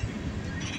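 A train passes nearby during railfanning in Michigan: a brief, steady low rumble and rolling rail noise, heard alone without talk.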